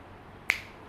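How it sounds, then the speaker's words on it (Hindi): A single sharp finger snap lands mid-way, crisp and close, against a quiet, faintly humming room with no talking. "चुटकी बजाते खत्म"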